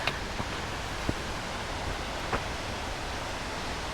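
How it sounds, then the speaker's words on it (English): Steady, broad roar of a large waterfall, Comet Falls on a hiking trail, heard as a constant rushing wash with a couple of faint clicks and no voices. "waterfall's so damn big"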